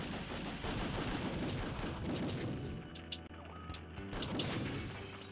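Machine gun fire in the arcade-style Elevator Action Returns video game, dense rattling bursts of shots in a constant stream, then a short lull with scattered shots and tones before firing picks up again.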